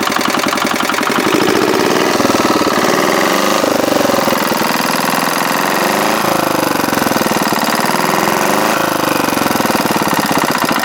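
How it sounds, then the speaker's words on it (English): A small 1949 Clinton gasoline engine with a worn cylinder idles loudly and close up, running fast and steady with a buzzy, rattling tone throughout. "I can't believe how nice it's idling"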